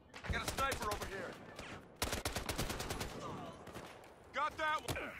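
Rapid bursts of close gunfire and automatic fire in the Battlefield Hardline conquest beta, loud volleys in quick succession with a brief pause, under a few faint voices.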